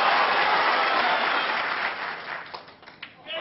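Warm sustained applause from a snooker crowd celebrates Ronnie O'Sullivan's maximum 147 break, loud and dense at first, then thinning into scattered claps.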